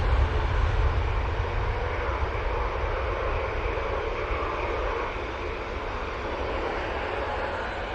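A jet airliner departing Manchester Airport for Athens roars steadily with loud, broad engine noise that eases slightly as it moves off, with no talk.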